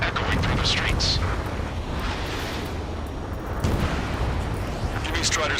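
Gunfire and roaring jets from the Ace Combat 7 video game fill the scene with rumbling blasts and sharp bursts over a broad, continuous din, with a voice talking over part of it.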